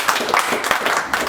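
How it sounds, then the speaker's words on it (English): An audience at a Scots and isiXhosa cultural performance in Grahamstown claps in a short, fairly loud patter of scattered hand claps that swell in a few uneven bursts. "Nobody will charge you a fee for clapping today."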